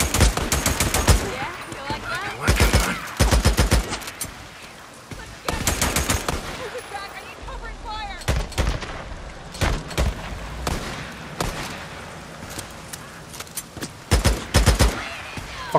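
Heavy gunfire in the video game Days Gone, in loud repeated bursts of rapid automatic shots separated by short pauses, up close and dominating the mix.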